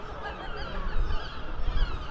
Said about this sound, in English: Tell you what, those seagulls are going absolutely mental.